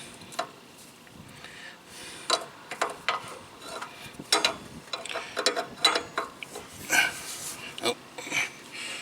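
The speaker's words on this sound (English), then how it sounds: "All I'm going to do now is crank down that jam nut so that it stays put" A wrench cranks down a jam nut on a truck's brake chamber, giving close, irregular ratcheting clicks and metallic mechanical ticks in short bursts.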